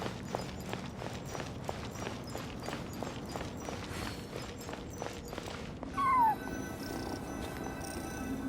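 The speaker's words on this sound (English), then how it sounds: "And so I followed the cat's cries to find my way out." A cat's cry in Genshin Impact ruins exploration, a single clear meow rising above rhythmic footstep-like thumps and ambient game sound, fairly close and brief.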